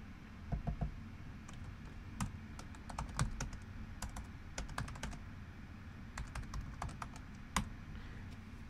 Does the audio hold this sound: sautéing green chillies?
no